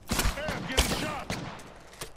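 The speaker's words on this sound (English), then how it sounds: "Hey, I'm getting shot." Gunfire in the video game Apex Legends, a quick flurry of sharp shots rattling over about two seconds, mixed with game effects and a faint voice.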